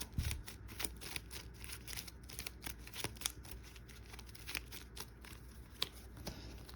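A deck of game cards being shuffled for a deck-building tabletop game, a quiet, steady riffling and sliding with soft rapid clicks, close by with no talk.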